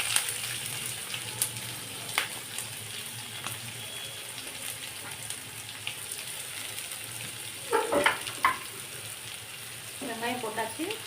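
Onions frying in oil in a pan after mustard seeds and curry leaves, a steady sizzle throughout with a few louder bursts and stirring noises near the end.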